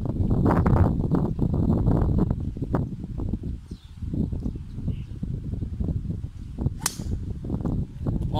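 A golf club strikes a ball on a pristine, manicured course in Thailand, giving a sharp, clean crack that stands out briefly against steady outdoor ambience.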